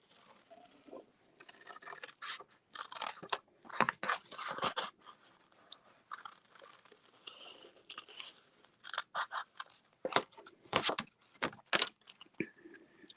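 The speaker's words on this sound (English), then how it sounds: "I'm actually just going to quickly fussy cut this." Scissors snip paper in a run of quick, crisp cuts while fussy cutting around a papercraft design. The cuts come in close bursts with short pauses, near and fairly loud, and no voices are heard.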